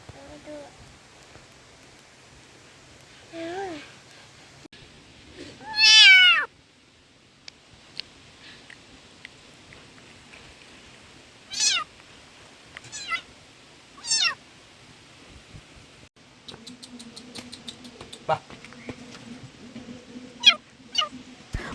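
A kitten meows several times, high thin cries spaced apart, with soft background noise and brief quieter sounds in between.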